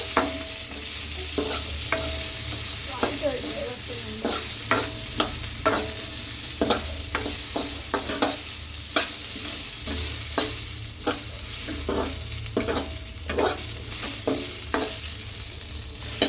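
Capsicum fries in a pan for chow mein, a steady sizzle broken by repeated close scrapes and clacks of a spatula stirring, with no talking.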